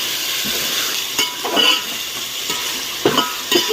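Chicken sizzles in hot oil in a home kitchen pan, with a steady frying hiss and a few scraping stirs of a utensil against the pan.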